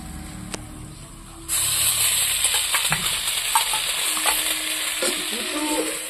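Potatoes frying in a pan, a quiet background that suddenly bursts into a loud, continuous sizzle about a second and a half in, with scattered stirring clinks and pops.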